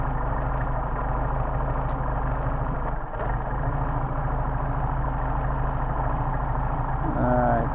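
A Mercedes 190SL engine with Solex carburetors idles at roughly 650 to 700 rpm, a steady, close, low mechanical hum that runs without a break.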